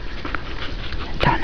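A Groenendael dog plays with a ring cord, giving soft snuffles and small whimpering noises, then a louder sharp sound near the end. A voice is faintly present.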